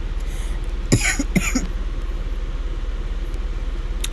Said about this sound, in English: Forgive that cough there.